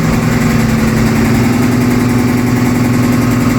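A loud laundromat machine runs with a steady, droning low hum and constant vibration, unbroken throughout.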